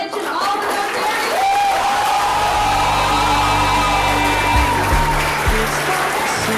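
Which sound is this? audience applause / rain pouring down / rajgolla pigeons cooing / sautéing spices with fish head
audience applause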